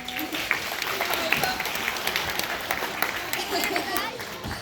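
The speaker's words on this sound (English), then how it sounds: "Round of applause, everyone" An audience applauds at a London Science Museum live show in Barrow-in-Furness, a steady wash of many hands clapping at moderate volume with some chatter and cheering underneath.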